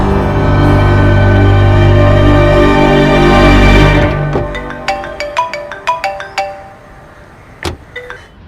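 A phone rings out while a call is being placed at home, a loud sustained musical ringtone for about four seconds, followed by a string of short chiming tones that fade out.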